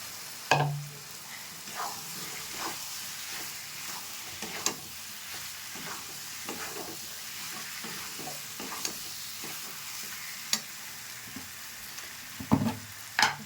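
Potatoes fry in oil-released spiced masala for a prawn curry, giving a steady soft sizzle with intermittent sharp scrapes and clinks of stirring, louder near the start and end.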